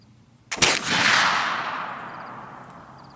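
A .32 caliber Pedersoli Kentucky flintlock rifle fires once. The loud, sharp report is followed by a long, booming decay.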